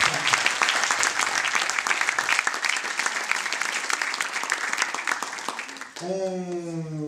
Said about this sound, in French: un grand applaudissement pour ces personnes